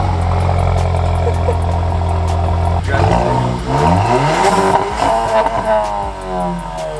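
A loud Volkswagen GTI engine idles close up, then revs, the pitch climbing and falling in a few surges before settling back down.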